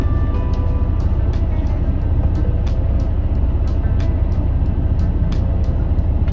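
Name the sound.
diesel car driving during a driving lesson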